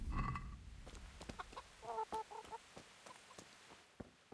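Chickens clucking around a coop in Kingdom Come: Deliverance, a medieval video game, with repeated short clucks and a couple of louder squawks at a moderate distance over quiet outdoor ambience, no talk.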